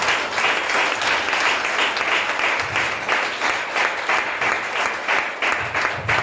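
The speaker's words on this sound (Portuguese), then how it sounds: "Aplauda Jesus." A church congregation applauds steadily and loudly throughout, a dense continuous wash of clapping with no pauses.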